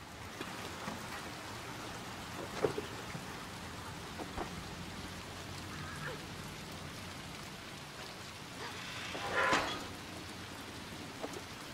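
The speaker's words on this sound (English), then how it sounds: "I love rain. To me, it's such a beautiful, beautiful thing." Steady rain falling in the video game Little Nightmares II, a soft continuous patter at moderate level with occasional brief knocks and a louder splash near the end.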